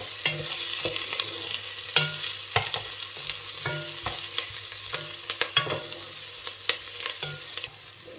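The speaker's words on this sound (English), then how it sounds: "we're just going to give it a stir" Onion and chilli frying in a pot for lentil and butternut squash soup, stirred with repeated scraping strokes over a steady close sizzle, with no talk.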